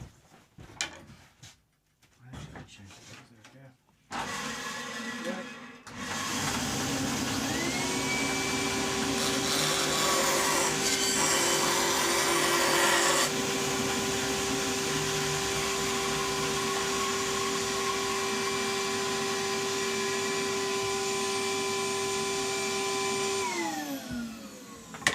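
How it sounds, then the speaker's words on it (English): Bandsaw cutting the excess wood off a bass guitar body in a workshop, a loud steady whine and hum sustained for about twenty seconds after a few brief knocks, then winding down at the end. "I'm just going to bandsaw this excess off quickly"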